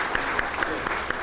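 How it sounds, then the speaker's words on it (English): An audience at a postgraduate diploma convocation ceremony claps steadily, a dense patter of many hands with a few sharper claps standing out, moderately loud and unbroken across the short stretch. "Like a big round of applause."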